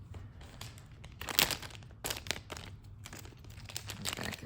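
Plastic wrapping crinkles and tears as it comes off a Digimon card starter deck, close and fairly loud, in irregular bursts with a sharp rip near the middle and no talk.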